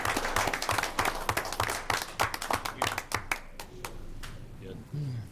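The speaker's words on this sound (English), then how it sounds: "we could give Chad Sexauer and Chris Neihart a round of applause for their officers." A room of people applauding, dense clapping that thins out into scattered claps, with a voice beginning to speak as it fades.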